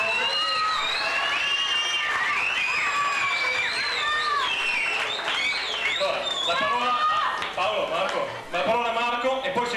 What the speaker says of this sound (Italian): E quindi cominciamo subito con un grande applauso